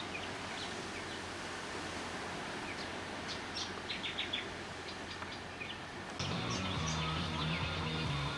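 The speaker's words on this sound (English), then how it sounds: "There's about half a dozen birds sitting up above me." Several birds chirp and call in a tree overhead at a beach campsite, faint scattered tweets over steady wind or surf noise, with a low hum joining near the end.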